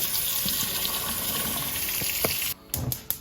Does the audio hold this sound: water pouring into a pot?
yes